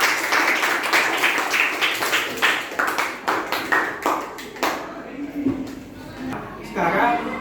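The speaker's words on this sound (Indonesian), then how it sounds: "Di aplaus untuk kelompok 1" A classroom audience claps for a student group, with a run of sharp, irregular hand claps over several seconds that taper off, mixed with voices talking.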